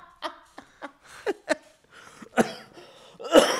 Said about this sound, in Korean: 아우 기침 나오네